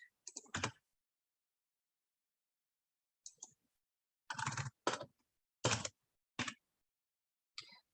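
Fingers type on a computer keyboard in short, scattered clusters of clicking keystrokes separated by long quiet pauses, fairly faint and close, with no talking.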